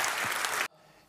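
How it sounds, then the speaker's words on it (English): Audience at a customer experience keynote bursts into dense applause that cuts off abruptly after about half a second. "Give yourself a round of applause."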